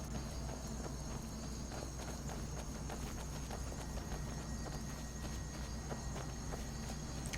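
Horse hooves clop along at a steady walking pace in Skyrim, an even run of close, moderately loud footfalls over a constant outdoor ambience, with no talking.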